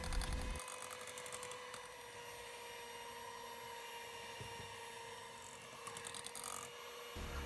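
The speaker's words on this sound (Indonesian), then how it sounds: "Mixer kembali dengan kecepatan rendah sampai adonan tercampur rata saja." An electric mixer runs on low speed through marble cake batter, a steady whirring drone that is fairly faint and close, with the motor note shifting slightly at the start and end.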